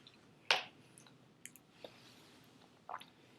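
Quiet, close wet squishing and clicking mouth sounds of chewing a soaked goji berry, a few soft separate bites spaced over a near-silent background.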